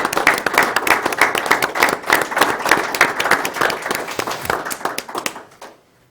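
Applause from the audience at a regular city council meeting, steady dense clapping for several seconds that tapers off and stops near the end.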